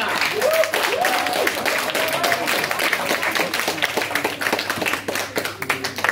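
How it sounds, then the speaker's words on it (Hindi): An audience at a poetry competition applauds a prize winner with brisk, loud clapping, while a voice speaks briefly over the start and the clapping tapers unevenly. "एक बार जोरदार बहुत जोरदार तालियों से स्वागत करें देश कुमार का"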